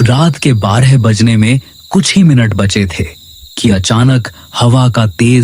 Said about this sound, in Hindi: बाहर से झींगुरों की आवाज आ रही थी